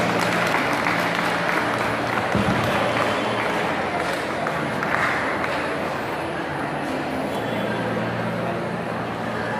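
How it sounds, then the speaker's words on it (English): Applause from an audience welcoming a guest at a jubilee event, a full, steady crowd clapping with murmuring voices mixed underneath, easing slightly toward the end. "with a big round of applause"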